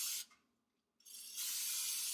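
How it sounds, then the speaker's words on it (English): Cooking spray hisses onto a baking dish in two bursts, a short spritz followed by a pause, then a longer, steady spray that runs to the end, close and clear. "Make sure we're spraying this well."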